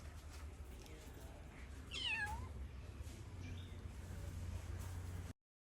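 A large cat gives one clear, rising-then-falling meow partway through, close by, with a fainter cry after it over a steady low background hum.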